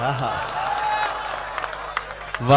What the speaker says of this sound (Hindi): तालियों का शोर सुनाई दे दोस्तों